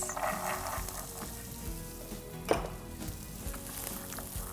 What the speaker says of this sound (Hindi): करीब 3 से 4 मिनट तक we'll saute it.